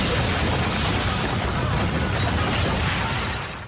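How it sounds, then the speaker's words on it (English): A gas leak explosion in the British soap Coronation Street produces a loud, sustained roar of blast and shattering debris that fills the whole stretch before tapering off at the end. "An explosion from a gas leak is followed by a freak tram accident"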